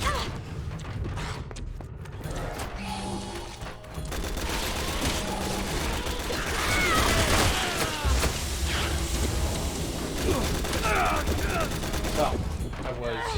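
Shotgun blasts boom in Resident Evil 6 gameplay, several loud, sharp shots with mechanical clanks and creaks amid game noise, with occasional talking over the action.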